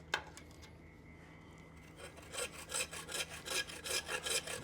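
Sawing through the wooden knuckle part of a handmade Thor's hammer: a quiet stretch with a faint knock gives way to steady back-and-forth saw strokes, growing louder and rhythmic; close, with no talk.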